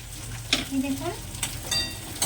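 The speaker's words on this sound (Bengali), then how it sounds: "পেঁয়াজটা লাল হওয়া পর্যন্ত ভেজে নিতে হবে।" Onions frying in a pan for chicken biryani, a soft sizzle with brief stirring scrapes and clinks, short and close.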